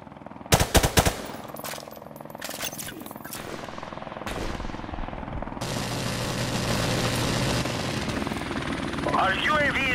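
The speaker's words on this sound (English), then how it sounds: "Friendly helicopter on the way." Call of Duty: Modern Warfare Remastered battle audio as friendly helicopter support arrives, a sharp burst of machine-gun fire at the start, then a growing, steady rotor drone with scattered shots and radio voice chatter over it.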